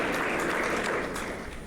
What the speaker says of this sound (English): We love the clapping, so feel free to clap